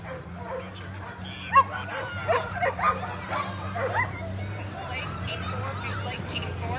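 Teams of sled dogs at the start of a sprint race on 4th Avenue in Anchorage bark, yip and whimper in scattered bursts over a steady low crowd hum, with voices talking throughout.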